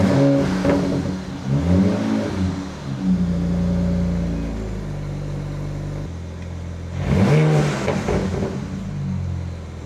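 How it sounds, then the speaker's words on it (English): A BMW 335i engine cranks and catches near the start, then settles into a steady idle; a second burst of revving follows later before it drops back to a low, continuous hum, close and fairly loud with no talking. "put your key back in and start the car."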